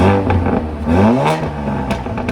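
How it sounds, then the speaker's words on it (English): Modified Audi S3, roughly 400 wheel horsepower, revving hard with a loud aftermarket exhaust: the engine note climbs and falls in two quick blips, close and throaty, with no talking. "All right, I'm gonna rev it up."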